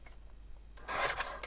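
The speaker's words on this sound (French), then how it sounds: "Ça va tellement plus vite en plus avec le massicot qu'avec... avec la guillotine qu'avec le ciseau." A paper guillotine trimmer slicing through paper gives one close, loud rasping swish of about half a second, following quieter faint rustling.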